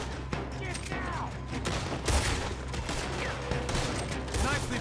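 Gunfire crackles through a Red Dead Redemption 2 shootout: a steady, dense fusillade of close shots with louder bursts recurring every couple of seconds over a continuous din.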